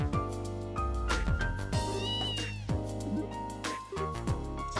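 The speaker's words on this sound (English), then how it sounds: "A cat?" A cat meows in the video game Trails in the Sky, over busy, loud game music that runs throughout.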